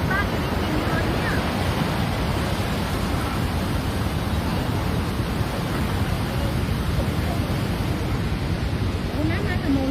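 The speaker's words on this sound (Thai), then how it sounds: "โอ้น้ำมาถนนแล้วน้ำมา" Flash-flood water rushes over a road at Pha Bong, Huai Tam Khon, Mae Hong Son, making a loud, continuous roar close to the microphone, with wind buffeting and a voice talking faintly beneath.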